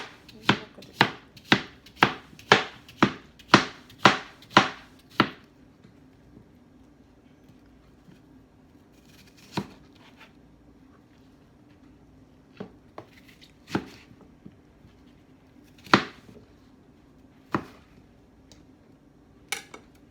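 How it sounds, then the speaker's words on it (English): A knife chops cucumbers against a cutting board in a quick, steady run of about ten sharp knocks, then a few scattered chops with pauses. "To blend it, you have to cut it up first."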